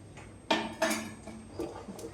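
A spoon clinks and knocks against a bowl while jackfruit murukku flour is mixed with asafoetida and sesame, several close, irregular taps and scrapes in quick succession.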